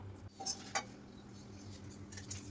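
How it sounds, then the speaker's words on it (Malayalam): Crisp papadam is crushed by hand, producing a few brief, faint crackling snaps spread across a quiet background. "പപ്പടം പൊടിച്ചുകൊണ്ടിരിക്കുകയാണ്."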